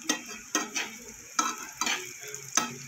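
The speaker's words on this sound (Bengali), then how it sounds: "পনিরটা আমার অনেকটাই ভাজা হয়ে গেছে।" Paneer frying in a kadai for a dahi paneer dish, with soft sizzling broken by several sharp scraping stirs at irregular intervals, close and moderately loud, with no talk.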